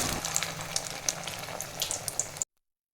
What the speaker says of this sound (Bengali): এভাবেই আমি ভেজে নেব সবগুলো